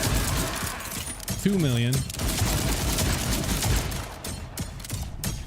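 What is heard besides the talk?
shotgun gunfire in the video game Borderlands 4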